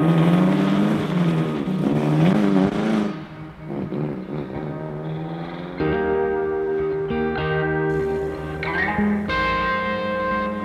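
A 1955 Alfa Romeo Giulietta Sprint engine runs while driving in a low gear, loud up front with rising and falling revs, then a steadier hum with faint tonal whine.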